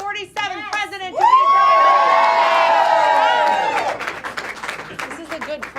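Loud crowd at a Trump campaign rally in South Carolina erupts in sustained cheering, whooping and applause for several seconds, swelling from a few shouts into a dense roar before tapering off.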